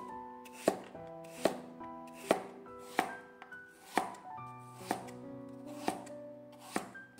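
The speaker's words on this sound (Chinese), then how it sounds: "然后再把它切成片，切得稍微的厚一点才好吃。" A kitchen knife slicing radish into thick slices on a cutting board, with regular sharp chops about every 0.7 seconds, close and crisp, with no talking over them.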